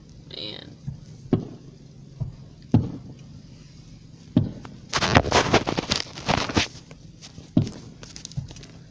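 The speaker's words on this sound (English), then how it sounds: "I'm trying to get the fireworks on camera there." Fireworks at a night-time fall festival at Indian Park, Montoursville, Pennsylvania: scattered distant booms and pops, sparse at first, then a dense crackling flurry midway, heard from a roadside spot among soft background noise.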